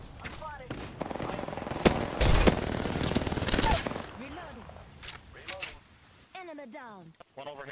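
Apex Legends match gunfire crackles in rapid automatic bursts and sharp single shots, loud and close, mixed with game sound effects and sweeping tones, while a voice talks over the action.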